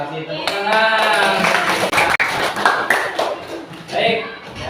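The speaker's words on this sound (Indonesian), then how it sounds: "Tepuk tangan." A classroom of students claps hands together, a scattered burst of clapping mixed in with voices speaking and calling out over it, fairly close and loud.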